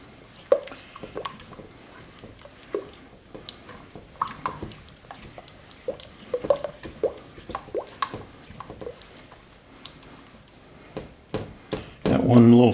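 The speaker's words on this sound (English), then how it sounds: "Got to keep stirring real vigorously now when we start getting all that" Peanut brittle candy mixture stirred vigorously in a pot, giving soft wet squishing and dripping sounds in irregular bursts, with a louder clatter near the end.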